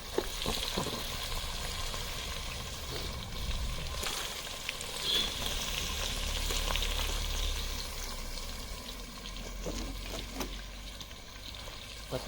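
Capsicum and chilies frying in a pan in a village kitchen, a continuous crackling sizzle with occasional scrapes and clicks from stirring, steady and close throughout with no talk.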